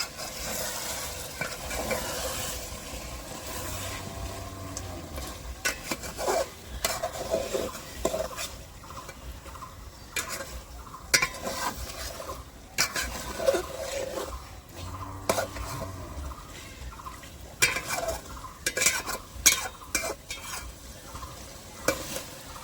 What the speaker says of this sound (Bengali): একদম হলুদ দিয়ে দিচ্ছে ভালো করে নাড়াচাড়া দিয়ে নেবে